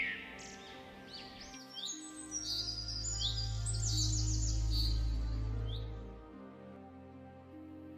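A small bird chirps and tweets in quick high bursts in an animated Hindi folk story. A steady low hum runs underneath, and the sound fades out near the end.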